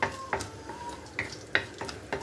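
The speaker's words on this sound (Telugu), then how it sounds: "ఈ రెండింటిని బాగా ఫ్రై అవ్వనివ్వాలి" Urad dal and a cut dried red chili frying in hot oil for a Rayalaseema uggani tempering, with a soft sizzle under repeated scraping strokes of a spatula against the pan, close and fairly quiet.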